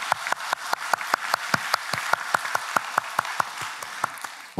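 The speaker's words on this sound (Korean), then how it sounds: "우리 새로운 분들에게 우리 박수로 축하하겠습니다." A church congregation applauding to welcome newcomers at the close of a service, with steady, dense clapping from many hands sustained throughout.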